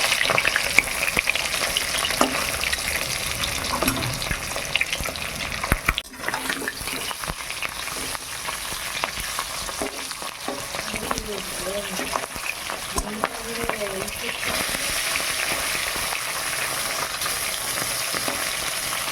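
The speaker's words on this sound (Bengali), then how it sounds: "দিদিমণি এখানে বড়া ভাজছে" Bora, fritters made from ground urad lentils, frying in hot oil, with a dense, continuous sizzle lasting nearly twenty seconds, broken by occasional stirring clicks and brief quiet speech in the middle.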